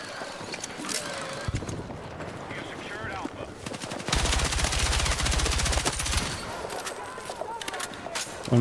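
Rapid machine gun bursts in the shooter game Battlefield 6, a dense sustained stretch of automatic fire mid-clip among scattered other shots and game noise, with a voice talking at times.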